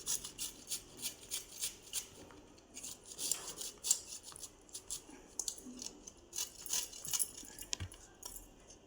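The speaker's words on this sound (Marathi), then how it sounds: "ही आता मी कैरी अशी याच्यावरती किसणीने किसून घेते" Raw mango is grated by hand on a kitchen grater for chapati, producing faint, regular rasping strokes in a steady rhythm, close and quiet, with no talking.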